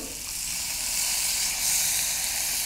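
Steady, close sizzling of garlic frying in hot oil, a continuous bright hiss that swells slightly midway, with no voices.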